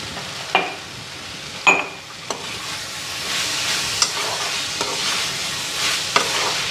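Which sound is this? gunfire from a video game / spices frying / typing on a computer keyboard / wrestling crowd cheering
spices frying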